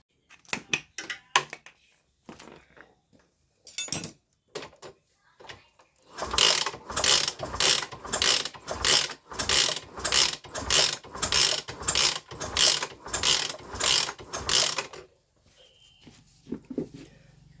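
A Yamaha Scorpio motorcycle with lost compression and its spark plug removed is kick-started over and over, giving a fast, even run of loud ratcheting clunks after some scattered single kicks.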